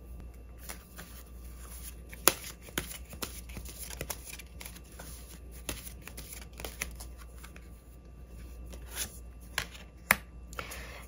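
Tarot cards being shuffled by hand, soft riffling and slapping with sharp clicks at irregular intervals, close and moderately quiet, no talking.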